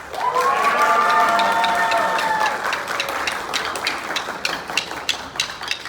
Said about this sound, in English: If you thought side B was the winner, give a round of applause